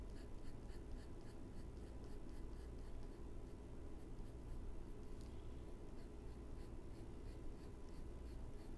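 A pencil shades an apple drawing on paper, a faint, continuous scratching that stays soft and even under a steady background hum.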